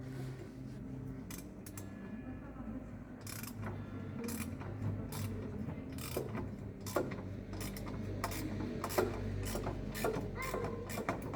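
A ratchet clicks in repeated short bursts while tightening a bolt during manifold replacement on a Jaguar XJ6, close and fairly steady over a low mechanical hum.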